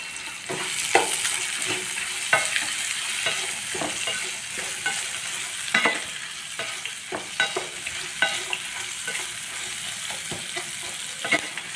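Onions sautéing in a pan for a Tamil kara kuzhambu give a steady sizzle, broken by repeated scraping clacks as a spoon stirs them. No voices are heard.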